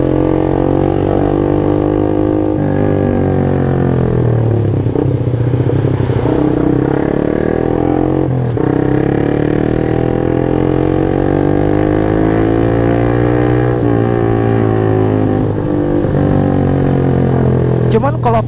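Yamaha Jupiter MX motorcycle ridden fast, a loud, steady engine drone with rising and falling revs and gear shifts, mixed with wind rush throughout.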